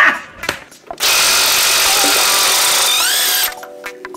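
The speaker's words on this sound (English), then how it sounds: "I'm gonna loosen the nut." A power tool loosens a nut on the axle of a 60 series Landcruiser during a leaf spring lift install, a loud close whir running steadily for about two and a half seconds with a few small clicks around it.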